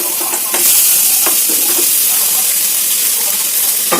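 Grated coconut sizzling and being stirred in a hot pan, a steady close frying hiss with light scraping and a few louder stirring bursts throughout, no talking.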